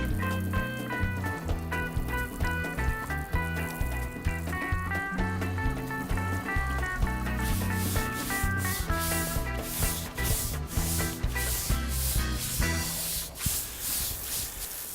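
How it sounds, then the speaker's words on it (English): Water and a brush scrubbing paving stones to wash off white efflorescence marks, heard as a steady rhythmic rasping of bristles over wet pavers that runs loud and close throughout, with trickling water beneath. "Pour it around, move it around with a brush and wash it off"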